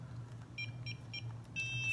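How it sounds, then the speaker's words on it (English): A NuFace microcurrent facial device sounds three short, evenly spaced electronic beeps, then a longer sustained tone, faint and close over a steady low hum, with no talking. "the LED light beeps every 3 minutes."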